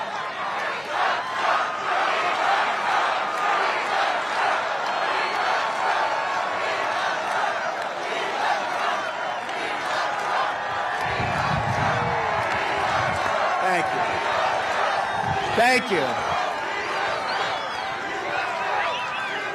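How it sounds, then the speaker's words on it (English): A large crowd at a 2024 Trump campaign rally in Michigan roars and cheers steadily throughout, a dense wall of voices, while someone briefly speaks over it. "What a crowd."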